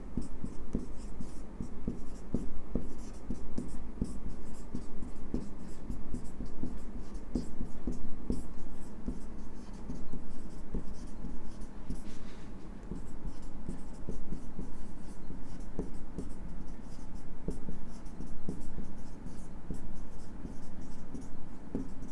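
A pen scratches steadily across paper while someone writes out a line of notes, a continuous close scribbling with small strokes and pauses, no voices over it.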